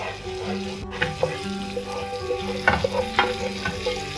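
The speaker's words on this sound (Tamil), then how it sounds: "இப்போ வந்து இதை நல்லா பெரட்டி விட்டுடலாம்" Palakkad-style chicken fry sizzles in a pan while being turned and stirred, with recurring scrapes and clinks of a ladle against the metal over a constant frying crackle, close up and without speech.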